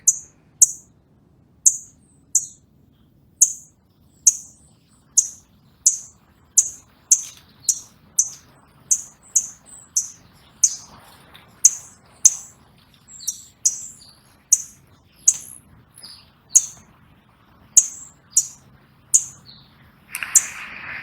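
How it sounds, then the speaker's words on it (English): Small birds perched in a pomegranate tree chirp outdoors in a live recording, sharp bright chirps repeating in a steady, even rhythm roughly every second against a quiet background. "here's a live capture of the birds on the tree, that the students were able to record"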